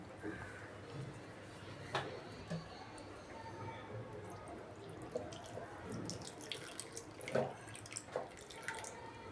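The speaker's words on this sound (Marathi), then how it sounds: "आणि आता ह्याच्यामध्ये ते चिंच गुळाचं पाणी टाकून घेऊया।" Tamarind and jaggery water is poured into a bowl of spiced flour mix for crisp alu vadi, making a fairly faint, steady trickle with a few small splashes in a quiet kitchen.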